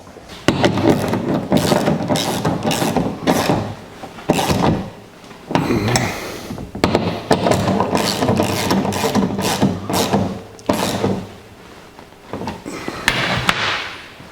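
Metal seat track brackets and nuts on a 1949 Chevrolet gasser being tightened with a ratchet, sounding as repeated close, loud clicking bursts separated by short pauses.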